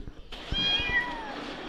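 One drawn-out, high meow from a six-week-old kitten rises suddenly after a few soft taps and then trails off, close by.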